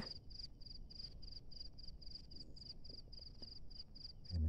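Cricket chirping steadily in a dry, cracked rice field, its high pulsed trill repeating in an even rhythm close by over a low background rumble.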